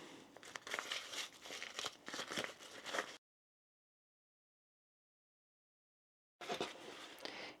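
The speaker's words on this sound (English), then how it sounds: "Turn our pocket inside out." Fabric crinkles and rustles as a sewn fabric pocket is turned inside out, a steady close-up handling sound for about three seconds, then silence, then a short burst of rustling again.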